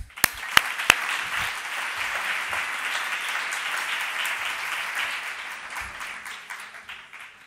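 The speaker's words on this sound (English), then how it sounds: "Let's welcome Olivia with a warm applause." Warm applause from a conference audience welcoming a speaker, steady dense clapping that begins with a few sharp near claps, holds evenly, then gradually thins toward the end.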